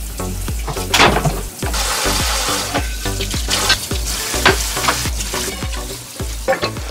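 Water runs steadily from a household shower, a loud, continuous rushing spray heard up close. Irregular clattering knocks recur over the top.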